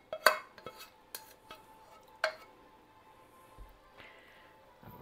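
Million dollar spaghetti being spread around in a pan that is too small, with a few quiet utensil clinks and scrapes against the pan over a soft background, the strongest knocks near the start.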